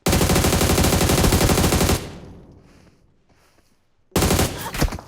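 PUBG Mobile gunfire: a loud rapid automatic burst for two seconds, a fading lull, then another close burst of shots near the end.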